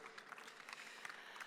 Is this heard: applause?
yes